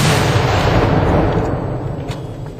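A British 7-pounder gun fires a 4.1-kilo kirksite projectile over 6 ounces of FG black powder, producing one huge close boom that rolls into a long fading rumble.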